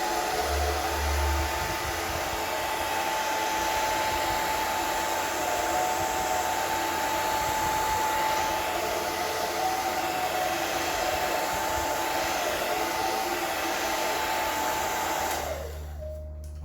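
A hair dryer runs loudly and steadily to warm masking tape on a painting, a constant close whoosh with a faint whine that cuts off abruptly near the end.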